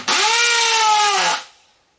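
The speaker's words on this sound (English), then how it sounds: "You can make a pilot hole if you like, but most of these power drivers are pretty good." A power driver drives a screw into pallet wood in one short, close whirring burst of just over a second that cuts off sharply, with no talking.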